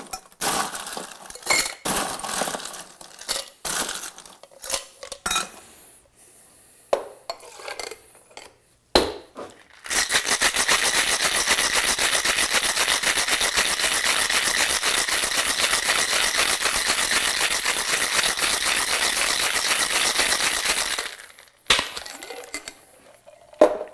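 Cocktail shaker packed with ice, shaken hard to chill a Cloister cocktail containing lemon juice, giving a loud steady rattle for about eleven seconds, with scattered clinks and handling noises before and after.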